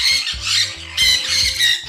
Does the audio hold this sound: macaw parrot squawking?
yes